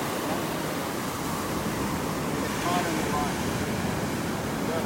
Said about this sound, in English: And then with the waves, they're here and then they're gone